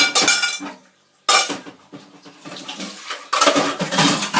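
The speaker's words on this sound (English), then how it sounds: "quick wash of my hands" Hands washed under a running kitchen tap while cooking a homemade pie, with bursts of broadband splashing water, a short gap, then a louder rush of flow near the microphone.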